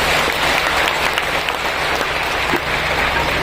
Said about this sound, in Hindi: एक बार अपने लिए ताली बजाओ जोर से।